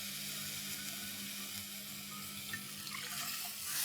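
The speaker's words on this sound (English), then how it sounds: "lower the flame and add in water" Room-temperature water pours steadily into a pot of rice on a lowered flame, a continuous broadband splashing rush that swells slightly toward the end.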